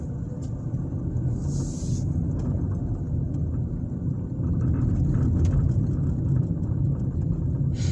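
Steady low engine rumble of a car driving through a residential neighborhood in Zionsville, Indiana, heard from inside the vehicle, continuous and fairly loud with a slight swell partway through.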